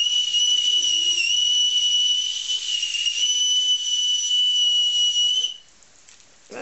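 A toy whistle shrills loudly in one long, steady, piercing blow for several seconds, then cuts off, leaving faint background noise and a soft rustle.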